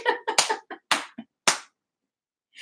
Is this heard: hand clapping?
yes